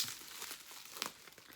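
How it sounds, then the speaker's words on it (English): Crinkling of bubble wrap being pulled off a small jar of hair butter, a soft close rustle with one brief crisper crackle and no talking. "It came packaged in bubble wrap, and it comes with like a little scoop."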